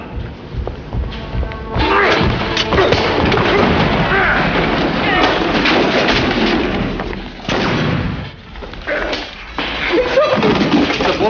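Gunfire aimed at a man in a drama scene, with loud, dense booming shots and heavy thuds rolling over one another through a busy, chaotic soundtrack, briefly easing off before the barrage resumes.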